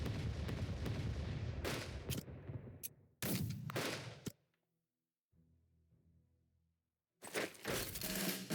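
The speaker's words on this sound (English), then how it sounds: "Time to waste a naval bombardment." A naval bombardment in the strategy video game Unity of Command 2 lands as a dense run of heavy booming blasts. It breaks off into near silence with a low rumble, then a final loud burst of explosions arrives.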